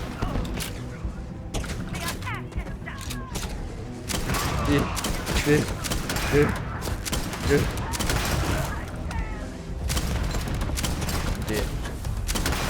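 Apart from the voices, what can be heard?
grenade launcher firing in the video game Starfield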